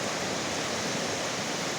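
Water rushes steadily over a dam and its waterfalls, a dense, continuous roar with no breaks, loud and close, with no talking over it.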